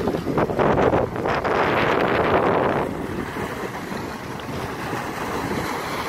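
Strong wind buffets the microphone aboard a boat on Lake Garda off Riva, with a loud gusty roar that eases after a few seconds into steadier rushing air and water noise.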